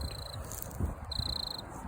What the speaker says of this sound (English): Is there a cricket right there? It's like a cricket.